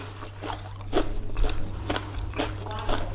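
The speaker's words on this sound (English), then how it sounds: "Can you hear the crunch?" Crunchy fried Nigerian food bitten and chewed up close, several crisp crunches spaced about half a second apart with a steady low hum underneath and no talking.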